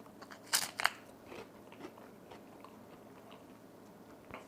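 Peeled freeze-dried cucumber slices sprinkled with dill are bitten into with two sharp, close crunches, followed by quieter chewing crackles that trail off.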